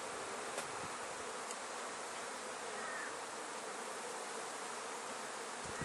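Aggressive honeybees swarm around a hive already worked with smoke, their dense, steady buzzing filling the air continuously and loudly, with individual bees passing close by.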